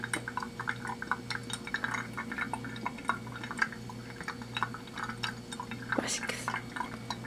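Hand-drip coffee trickles through a filter as faint, irregular little drips and splashes over a soft steady hum, with a brief sharper pour-like splash near the end.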